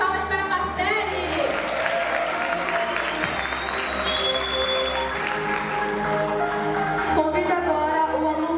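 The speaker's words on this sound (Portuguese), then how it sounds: "Uma salva de palmas para Marcele!" An audience at a school event marking the centenary of Modern Art Week applauds a student presentation, with steady, sustained clapping throughout.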